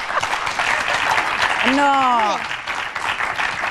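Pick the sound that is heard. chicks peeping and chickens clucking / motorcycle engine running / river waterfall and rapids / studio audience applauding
studio audience applauding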